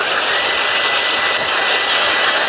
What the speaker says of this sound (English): you can get them pretty well dry with this blower